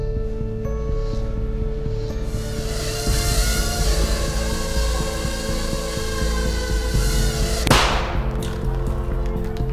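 In a film scene, a miniature drone carrying about three grams of compressed explosive goes off with a short, sharp bang near the end, cutting through a steady, loud, throbbing hum that fills the whole scene.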